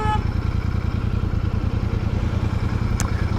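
A 2023 Royal Enfield Super Meteor 650 rides through Amsterdam city streets, its loud, steady twin-cylinder engine thrumming close up, with a brief high squeak near the end.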